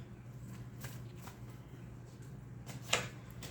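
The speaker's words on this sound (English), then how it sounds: "Now, we are shuffling the cards, as you can hear." Tarot cards shuffled close by, soft swishing bursts over a low steady hum, with one sharper snap near the end.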